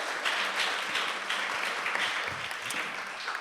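A crowd at a pledge signing ceremony applauds Senator Kelly Marsh Taitano, with steady, dense clapping that stays loud and even throughout.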